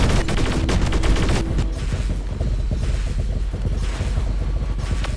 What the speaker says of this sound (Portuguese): Vai tomar tiro espacial.